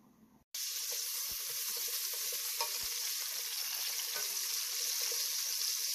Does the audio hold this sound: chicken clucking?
no